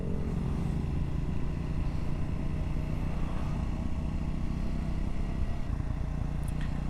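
A Triumph Scrambler 400 motorcycle engine runs steadily and close up while riding, a continuous low rumble with a faint rise near the end and no talk over it.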